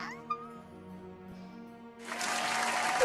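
A group clapping in applause for Mo, bursting in abruptly and holding steady as a dense patter for the last second, following a quieter stretch of sustained tones.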